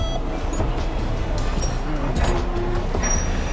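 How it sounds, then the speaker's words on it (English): A Hong Kong tram rolls along its rails with a steady low rumble and faint metallic squeals, clattering softly throughout at close range. "I love to see the driver driving the tram."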